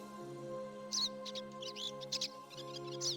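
Bird chirping in the Star Ocean 3 video game, several quick bright twittering bursts repeating over a steady low game hum, fairly close and clear, with no talk.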